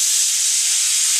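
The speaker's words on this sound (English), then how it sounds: "Second way is to lift the steam" Steam hisses from a pressure cooker's release valve while cooking kitchari soup, a loud, continuous bright hiss that stays steady for the whole stretch.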